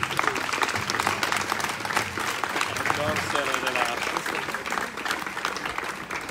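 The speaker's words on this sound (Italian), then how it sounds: "Ecco, un applauso." Supporters applaud at an election campaign closing rally in Italy with loud, dense clapping, while voices and a shouted cheer rise through the crowd noise.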